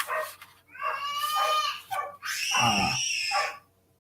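A baby girl screams loudly and close by: a few short wailing cries, then one long, piercing scream that fades out.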